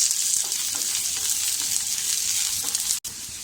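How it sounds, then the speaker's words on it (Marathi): Ginger and garlic sauté in a pan over medium heat, giving a continuous close sizzle with soft stirring scrapes and a brief break near the end. "बघा आपलं आलं लसूण छान परतून झालंय"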